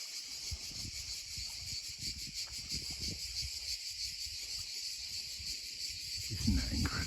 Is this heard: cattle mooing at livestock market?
no